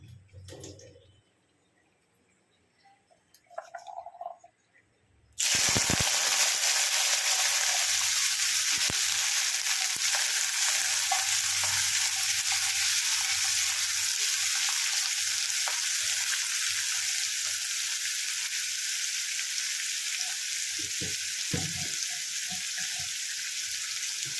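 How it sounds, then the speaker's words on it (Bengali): Cut potatoes dropped into hot oil in a pan burst into a loud, dense sizzle after a few quiet seconds of handling noises, frying steadily and close with occasional soft stirs. "এবার যেটা আলুটা কেটে রেখেছিলাম ওইটা আমি দিয়ে দেবো, ওইটা আগে ভেজে নেব।"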